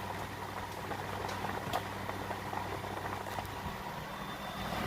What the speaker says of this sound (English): The compressor's running.